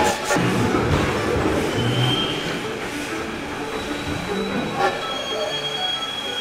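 A Lionel model train reverses, rumbling and grinding steadily along the rails, with metallic squeals from the wheels and low mechanical clanks throughout.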